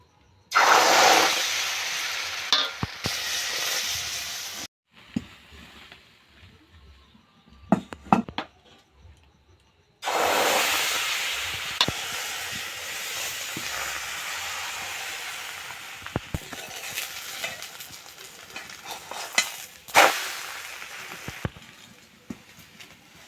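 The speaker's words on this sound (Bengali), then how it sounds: "একই রকম ভাবে আমি সবগুলো পরোটা ভেজে নেব" Aloo parathas frying in a pan, heard as bursts of loud, hissing sizzle that drop to quieter stretches with clatter and scraping from the pan and utensils, with no talking.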